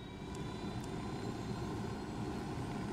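An aircraft engine drones steadily while the player pilots in Ghost Recon Wildlands, a continuous low rumble with a faint whine above it and no speech.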